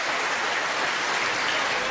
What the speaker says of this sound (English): the crowd starting to find their voice again